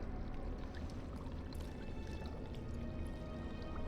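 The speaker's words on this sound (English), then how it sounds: "your next step is you need to fill the earthen jug with water" Water pouring and splashing as an earthen jug is filled at a pool in Dragon Age Origins, a steady soft trickling stream running throughout.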